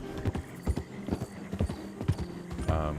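A horse walks in the video game Red Dead Redemption 2: crisp, close hoof clip-clops in a steady gait, with a brief whinny-like sound near the end.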